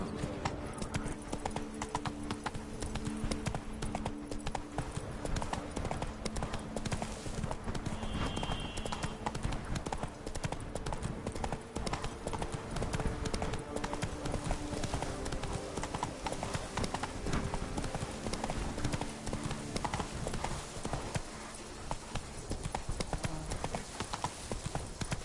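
A horse galloping in the video game Witcher 3, its rapid hoofbeats pounding in a continuous, even rhythm, loud and close for the whole stretch.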